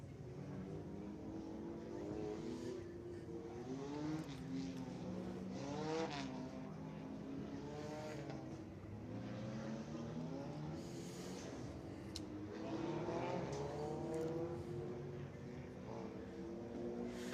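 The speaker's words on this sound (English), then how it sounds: "These Crown Vics are really squilling these tires down into the corners" Crown Victoria race cars circle Screven Motor Speedway during winter practice, engines droning and rising and falling in pitch as they pass through the corners, steady and moderately distant for the whole stretch.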